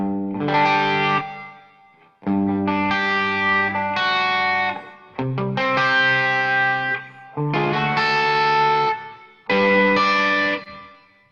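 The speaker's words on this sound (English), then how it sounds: "I'm actually running some reverb from the board. This is an interesting reverb here." Electric guitar run through reverb from an effects board, playing clean sustained chords in five separate ringing strums with pauses between them, each one fading out in a reverb tail, heard alone and loud.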